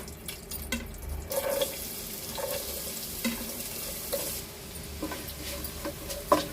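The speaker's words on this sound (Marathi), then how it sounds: "कांदा आपण परतून घेऊया" Sliced onion sautéing in hot oil with black pepper and spices, a steady soft sizzle broken by scraping and stirring clinks of a spoon in the pan, close and alone without talk.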